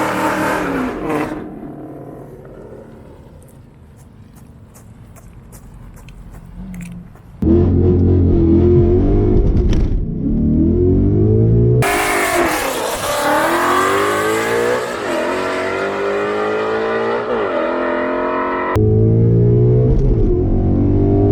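A car revs hard during a drag-strip launch with the clutch slipping, loud and close, its engine pitch sweeping up and down in repeated surges after a quieter idle at the start.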